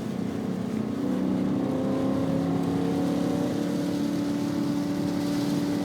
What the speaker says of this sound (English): We're going to downshift to third when we get there.